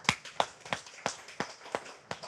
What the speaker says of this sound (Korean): 박수 올려드립시다.